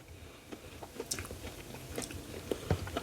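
Bites and chews into a crunchy homemade three-ingredient biscuit, its crisp bottom crust giving a run of close, sharp crunches and mouth sounds that thicken toward the end, with no talking.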